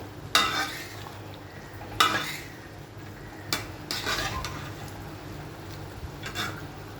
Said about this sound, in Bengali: কিছুক্ষণ পর পর মাংসটা নেড়ে দিচ্ছি